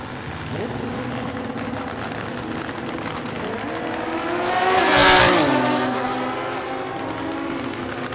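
A drag race with a car and a motorcycle charging down the strip at a hot rod association season finals, loud engine roar swelling to a sharp peak as they pass close by, then fading with falling pitch.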